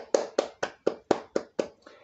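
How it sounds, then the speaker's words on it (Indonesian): A class claps hands in unison during a classroom session, eight sharp, evenly spaced claps in a steady rhythm, close and clear, with no talking. "Tepuk tangan untuk kita semua."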